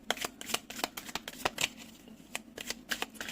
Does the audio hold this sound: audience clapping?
no